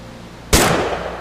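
A single sharp, loud gunshot cracks out in the What Remains of Edith Finch video game after a quiet moment, followed by a short decaying tail.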